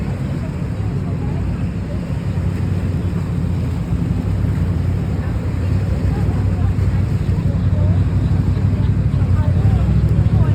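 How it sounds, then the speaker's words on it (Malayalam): A boat passing close by a boat jetty, its steady low engine rumble and water wash mixed with wind buffeting the microphone, continuous and fairly loud throughout. "അതാ ബോട്ട് പോവുകയാണ്."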